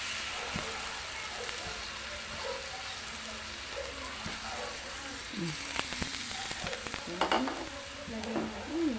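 Marinated chicken feet sear and sizzle in a pan for chicken feet adobo with pineapple chunks, a steady frying hiss with occasional stirring scrapes and clatters near the end, with faint talk in the background.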